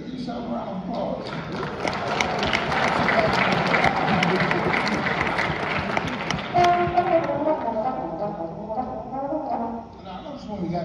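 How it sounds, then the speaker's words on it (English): Jazz students at a master class applaud themselves, a thick wash of clapping and crowd noise that holds steady for several seconds, then thins as a voice begins talking over the tail. "Give yourself a round of applause."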